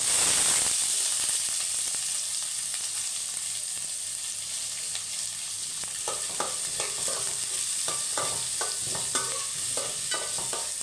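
Shallots frying in hot oil with fenugreek seeds and curry leaves for a Kerala brinjal and dried-fish theeyal, a steady close sizzle that later picks up spatula scrapes and stirring knocks against the pan.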